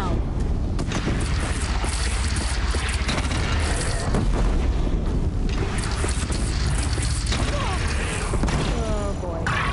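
A bridge shot down and exploding in Horizon Zero Dawn, a dense, continuous roar of booms, crashing and rumbling debris that stays loud throughout, with voices talking over the din.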